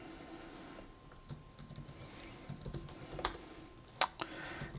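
Keys tapping on a new computer keyboard at a desk, a sparse run of light clicks building into a few sharper, louder keystrokes, close by with a low steady hum underneath and no talk.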